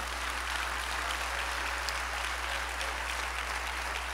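A church congregation breaks into sustained, dense applause, with many hands clapping steadily at an even level from start to finish.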